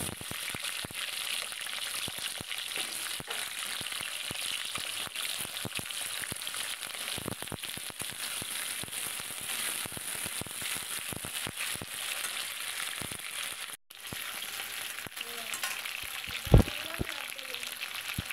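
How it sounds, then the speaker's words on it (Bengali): Potatoes fry in hot oil in a pan with a steady, crackling sizzle throughout, close and even, broken near the end by a brief clatter of stirring. "আলুটাকেও ওইভাবে একটু ভেজে নেব।"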